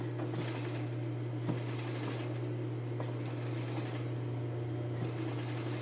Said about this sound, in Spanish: Luego que terminas de pasar esta primera costura